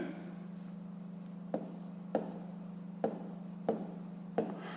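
Pen on paper jotting down numbers for a fifth-grade math exercise, quiet scratchy strokes coming in short bursts about every second over a low steady hum.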